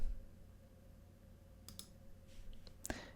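A computer mouse clicks during setup of an ESP32 board for a chicken coop door remote, a few sharp isolated clicks close by over a steady low hum.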